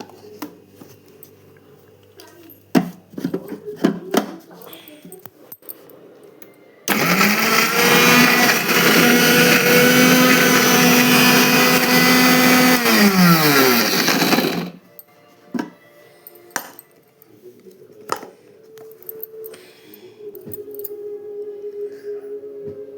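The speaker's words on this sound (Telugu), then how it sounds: "వేసేసుకొని ఇప్పుడైతే మిక్సీ పట్టేసుకున్నాం" A mixer grinder roars loudly for about eight seconds, whining steadily before spinning down, with scattered clinks and handling noises before and after.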